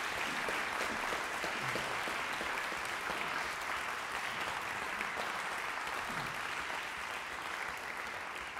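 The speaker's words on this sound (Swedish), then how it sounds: "Ge dem en varm applåd!" Concert audience applauding musicians at a graduation recital, a long, even roar of many hands clapping, moderately distant and unbroken for nearly nine seconds.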